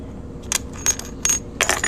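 Several quarter coin rings dropped one after another into a jewelry tumbler, giving four bright metallic clinks in quick succession, close and clear.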